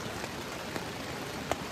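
Rain falling steadily at a winter campsite, a soft continuous hiss with a few sharper drop taps, fairly faint and heard alone.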